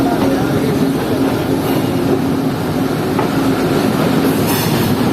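The Shaheen Passenger train, formerly the 9 Up Allama Iqbal Express, rolling at Sialkot Junction railway station, a loud, steady rumble of wheels on track with faint squeals throughout.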